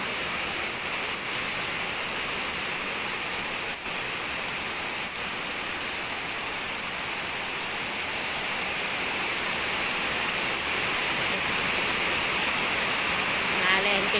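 Rain pours down in front of a house, a dense, steady hiss of drops hitting surfaces that stays loud and unbroken throughout.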